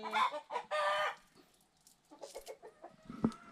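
Chickens cluck and squawk nearby in loud bursts, then quieter scattered clucks follow with a brief sharp cackle near the end.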